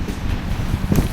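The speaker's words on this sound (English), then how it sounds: "And on a windy day too." Steady wind buffeting a microphone outdoors at an RC plane flight, a low rumbling whoosh with a brief gust near the end.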